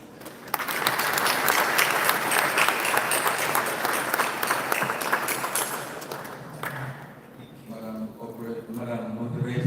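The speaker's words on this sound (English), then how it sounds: "please join me to give a round of applause for our panelists" A large crowd at a conference closing ceremony in The Gambia applauds loudly and continuously for several seconds for panelists, then the clapping fades out as a voice begins speaking.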